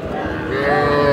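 A cow lets out a long, loud, low moo close by at a cattle market in Aftabganj, Dinajpur, with a busy crowd murmuring in the background.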